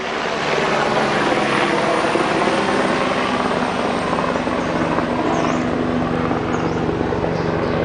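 A military helicopter passes overhead above a flooded forest in Cambodia, its steady rotor roar loud and continuous throughout with no talk.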